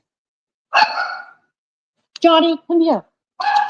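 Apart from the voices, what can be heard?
dog barking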